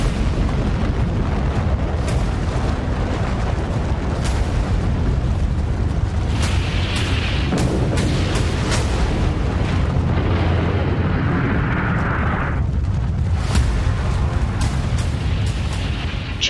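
A nuclear bomb explosion sound effect: a loud, sustained roaring rumble with crackling bursts, rolling continuously from start to finish without a pause.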